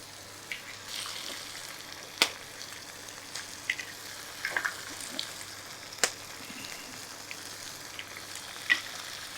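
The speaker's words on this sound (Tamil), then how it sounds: "இப்போ கொஞ்சம் லைட்டாக அந்த பெப்பரை போட்டு டாஸ் பண்ணுறேன்." Capsicum and pepper tossed in a frying pan while making shallot fried rice give off a quiet, steady sizzle, broken by a few sharp clinks and scrapes of utensil against pan.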